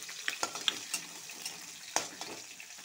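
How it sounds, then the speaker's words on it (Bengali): A spice paste fries and sizzles in a pan while it is stirred, with scattered clinks and scrapes from a utensil against the pan over a soft steady hiss. "পেস্টটা একটু লাল লাল করে ভাজবো"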